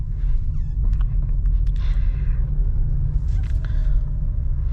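Volkswagen Taigun engine on a drive, a heavy low rumble that holds steady throughout with faint higher noises above it and no talking.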